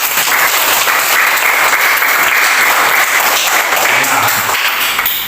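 A classroom of students claps together on the teacher's cue, loud sustained applause filling the room from start to finish with no talking over it.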